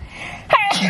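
A single quick sneeze bursts out at close range after a moment of quiet, followed by a short voiced exhale.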